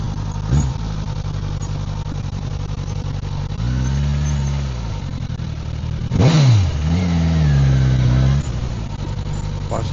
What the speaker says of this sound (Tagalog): Paparada lang dito motor.